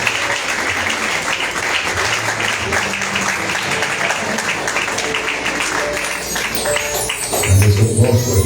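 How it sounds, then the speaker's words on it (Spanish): A church congregation applauds in a sustained, dense burst of clapping mixed with crowd noise, and a low musical tone swells in toward the end. "Den un aplauso de victoria al Señor."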